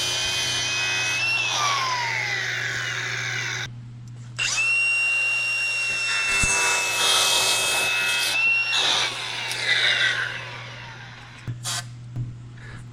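Fuel hoses trimmed to length during a sandrail engine install, with rough rubbing and sawing strokes in bursts across the clip, fairly close and loud, broken by a few short pauses.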